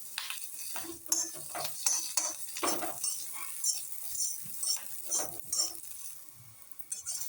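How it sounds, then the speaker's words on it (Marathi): Steady frying sizzle of whole chillies in oil, with repeated clinks and scrapes of a spoon stirring in a pan, close and moderately loud. "अख्ख्या मिरच्या तळून घ्यायच्या"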